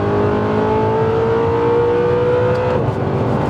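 An Audi R8 fitted with upgraded EBC brakes accelerates, its engine note rising smoothly and loudly from close inside the car, with no talking.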